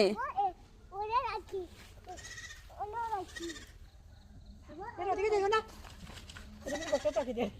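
Several goat bleats, wavering and nasal, repeat at close range, with people talking softly between them.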